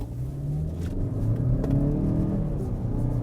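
A Mazda CX-5 Turbo accelerates hard from a stop. The engine note rises in a loud, steady climb with rumbling road and tire noise from inside the cabin.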